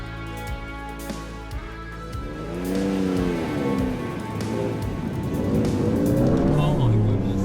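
A Ford Raptor truck is driven hard across Australia's biggest sand dunes, its engine note climbing and falling in long revving sweeps that grow louder midway, with voices talking over it.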